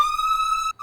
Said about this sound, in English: Okay, so the lead without effects sounds like this.